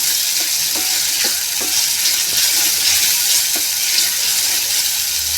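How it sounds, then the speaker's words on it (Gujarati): Green peas are stirred in a frying pan for sev usal, with steady close sizzling and a spoon scraping the pan in irregular strokes. "હવે આપણે વટાણાને બરોબર અંદર મિક્સ કરી લઈશું."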